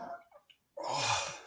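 A single sharp, close sneeze bursts out after a few soft breaths and small throat sounds, from a person suffering from allergies.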